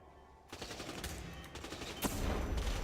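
Rapid game gunfire in Hitman 2 during a firefight in Mumbai, a dense run of shots with a sharper burst near the end, fairly close and loud, with no talk over it.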